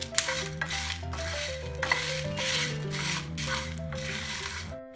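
Whole spices including black cardamom being stirred in a pan for korma masala, with a steady soft sizzle and scraping of a utensil against metal, continuous and close with no talking.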